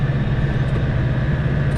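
A tractor engine runs while mowing, a steady close droning hum with a constant low tone throughout the short stretch.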